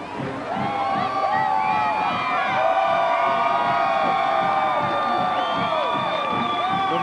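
Home crowd at McNeese State cheering during a 2003 college football game against Georgia Southern, a steady loud roar of many voices with whoops and shouts swelling throughout.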